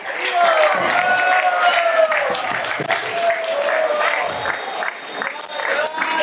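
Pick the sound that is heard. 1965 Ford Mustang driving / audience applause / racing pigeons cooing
audience applause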